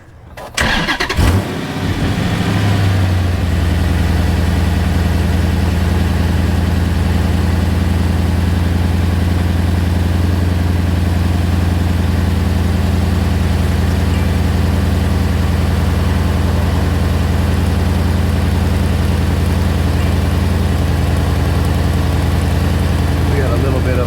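A Chrysler car engine starts and settles into a loud, steady idle with a deep exhaust rumble from an exhaust leak, running alone for over twenty seconds on a car show field.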